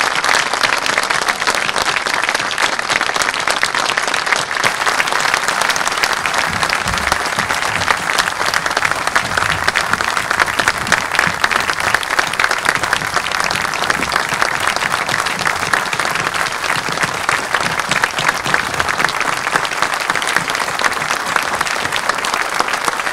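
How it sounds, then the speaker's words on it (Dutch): Sustained, loud applause from an audience honoring war veterans at a ceremony opening a Curaçao World War II exhibition, dense steady clapping throughout with no voices over it. "Mag ik u vragen om samen met mij deze heldhaftige heren een applaus te geven?"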